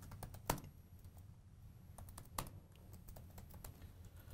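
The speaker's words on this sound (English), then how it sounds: "let's type in the agenda of the meeting" Computer keyboard typing while meeting agenda notes are entered: quiet, irregular key clicks with a couple of sharper, louder taps, heard close and alone over a low background hum.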